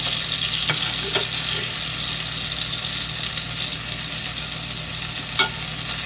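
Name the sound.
sandwich sizzling in butter in pan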